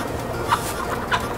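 Swiss German hens cluck softly on a farm, two or three brief clucks close by over a quiet background.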